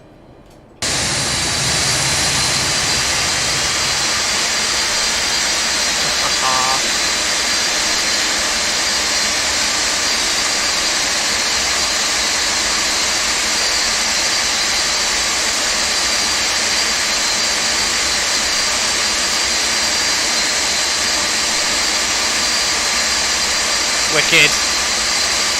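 Jet engines on a Felis Boeing 747-200 Classic in a flight simulator run up from start, a loud, steady whine and rush holding for over twenty seconds, with a brief click and a short spoken word near the end.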